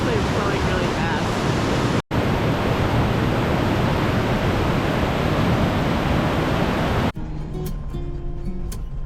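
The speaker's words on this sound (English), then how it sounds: "This river looks calm on this side, but it's actually flowing really fast." A fast-flowing river near Vang Vieng's Blue Lagoon in Laos makes a loud, dense, continuous rushing roar close by, cutting out for an instant, then carrying on more quietly after a sudden drop near the end.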